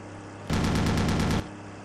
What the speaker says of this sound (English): He's firing, Jake.